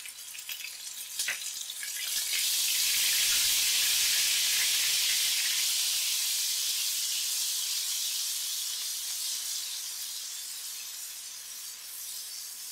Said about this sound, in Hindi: सबसे पहले ऑयल के अंदर शामिल करेंगे जिंजर गार्लिक पेस्ट।